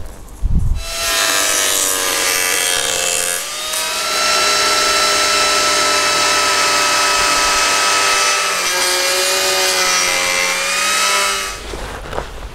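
Arbortech TURBOPlane trimming the bottom of a solid wood tray, a loud continuous whirring grind against the wood. It holds steady with brief dips where the blade lifts off.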